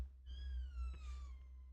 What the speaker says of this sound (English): my little adorable cat is just screaming outside my door